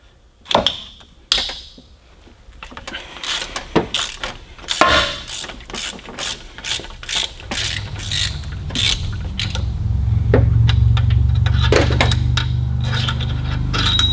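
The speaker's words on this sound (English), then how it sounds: "I'm going to go ahead and start taking the head bolts out." Hand ratchet loosening cylinder head bolts on a 350 Chevy V8 fitted in a Datsun 280ZX, repeated close clicking bursts with a low engine-bay rumble building toward the end, no talk.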